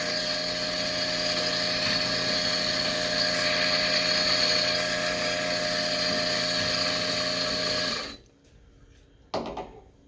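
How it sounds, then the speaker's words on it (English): A close electronic coffee grinder grinds a double espresso dose with a loud, steady high whine. It cuts off abruptly about two-thirds through, followed by near silence and one brief knock. "So this is an electronic grinder."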